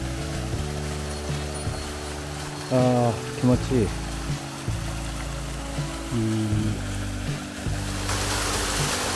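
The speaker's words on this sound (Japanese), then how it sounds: "宿屋の滝に到着しました。" Yadoya Falls in Okumusashi gives off a steady, broad rushing roar of falling water that fills the whole clip, with people talking briefly over it.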